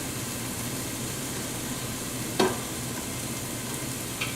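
Chopped onion and celery frying in a pan with a steady, even sizzle that fills the scene, broken by a single sharp utensil scrape partway through and a fainter clink near the end; no one talks.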